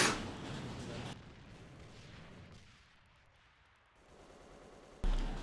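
Gunfire from a competitive match of the video game AVA at a 2013 league final: loud bursts open the clip, a quieter stretch follows, then another sharp burst lands near the end.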